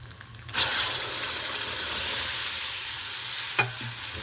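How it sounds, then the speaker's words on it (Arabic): Chopped tomatoes hit a hot frying pan with an oily base for Egyptian koshari and are stirred. A sudden loud sizzle starts and holds steady, with a single metallic scrape of the spoon near the end. "وهنحط الطماطم"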